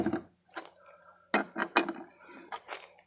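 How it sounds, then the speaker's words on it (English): Lug nuts being tightened on a 2003 Chevy Cavalier wheel during a brake rotor change give several close metallic clicks and ratcheting bursts, irregular and separated by brief pauses. "All I'm doing now is tightening lug nuts."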